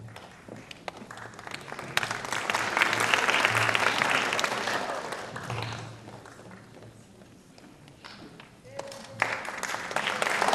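An audience at a film festival event breaks into sustained applause, swelling loud then tapering, with a voice speaking over the clapping near the end.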